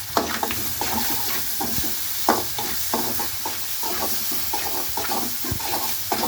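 Chopped tomatoes and cumin sauté in a pan, a close, steady sizzle punctuated by repeated stirring clacks and scrapes at an uneven rhythm, with no voices.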